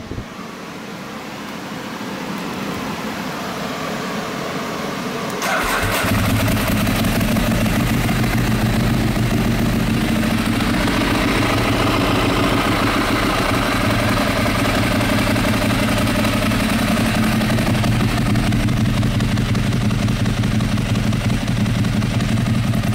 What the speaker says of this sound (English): Clutch clacking away. It's the Ducati sound.